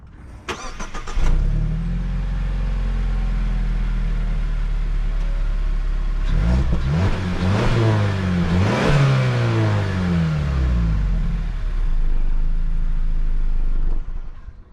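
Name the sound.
Mazda CX-50 2.5-liter turbo four-cylinder engine accelerating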